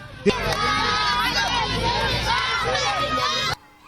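A crowd of villagers in Gemou, Mali, cheers and shouts to welcome arriving visitors in the heat, a dense, loud wall of many voices with whoops and high calls, continuous for about three seconds before cutting off.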